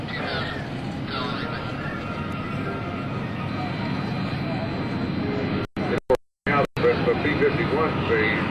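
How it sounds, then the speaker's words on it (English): Steady droning roar of propeller warbird airplanes passing overhead in landing configuration with gear and flaps down at minimum airspeed at a Naval Air Station Oceana airshow, engine noise continuous and fairly loud with brief dropouts near the end. "Skids Mijard, Jim Stitt, and Gordon Powers, as they approach, are going to dirty the airplanes up and be at minimum airspeed."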